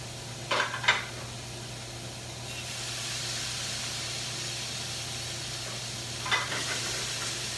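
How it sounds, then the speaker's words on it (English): Potatoes sliding into hot oil in a sauté pan: a couple of sharp clatters, then a soft, steady sizzle and hiss, followed later by another brief clink, with no talking. "our oil is hot for our potatoes, so I can go ahead and put our potatoes into our sauté pan"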